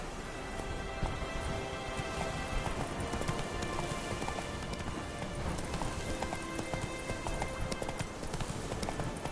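Roach the horse gallops in The Witcher 3, a steady, close clip-clop of hooves running continuously over a soft rain-like hiss.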